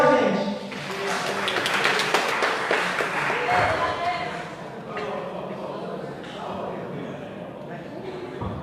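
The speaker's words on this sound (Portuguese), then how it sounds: "Palmas pro Gabriel" An audience at a church event applauds a prize winner named Gabriel, a loud burst of many hands clapping together, gradually thinning out as voices talk over it.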